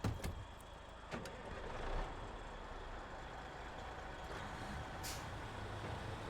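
A Twinsteer truck engine in the SnowRunner game drives with a steady, loud rumble. Brief hissing bursts cut in near the start and again around five seconds, much like air brakes.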